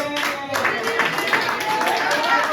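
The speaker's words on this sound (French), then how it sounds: "Pourquoi vous applaudissez?" A church congregation claps during a French-language sermon, a steady, fairly loud wash of applause with crowd murmur and a voice speaking over it.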